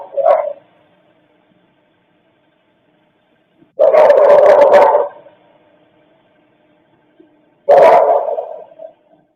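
A dog barks three times in separate bursts, a short one and then two longer, loud ones spaced a few seconds apart, with near silence between them.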